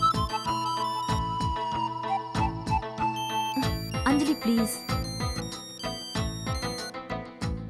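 Mobile phone ringtone plays throughout as a loud melodic electronic tune with a repeating rhythmic pattern, while someone speaks briefly over it partway through.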